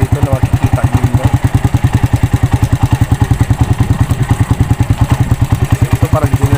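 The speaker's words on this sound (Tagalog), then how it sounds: "So, ito parang generator." An engine running like a generator beside Lake Lutayan in Sultan Kudarat, a loud, close, rapid and steady chugging pulse that holds an even rhythm throughout, with no other sound standing out.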